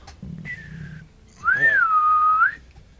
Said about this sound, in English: She is instead going to whistle.